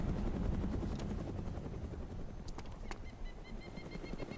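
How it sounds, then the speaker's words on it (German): Helicopter in the video game DayZ, a steady whirring rotor drone throughout, fairly quiet and constant, with a few brief sharp clicks over it and no talk. "land den einfach da vor der Feuerwache, den Heli"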